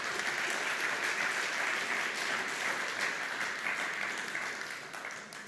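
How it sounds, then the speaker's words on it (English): An audience at a tech startup demo day applauds a presenting team, a dense steady wash of many hands clapping at close range that tapers slightly near the end, with no talking. "and again, big applause for Byte Fabric."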